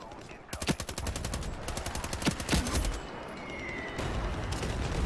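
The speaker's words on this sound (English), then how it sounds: "Oh, you're using a sniper?" Rapid bursts of gunfire in the online shooter Ironsight, many sharp shots crowding together in the first three seconds, then quieter game ambience with a faint tone.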